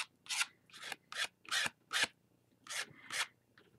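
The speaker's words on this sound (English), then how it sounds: "as you scrape over it with other colors" Dried paint on a canvas is scraped over with other colors in a series of about seven short, crisp rasping strokes, close and distinct with brief pauses between them, no voices.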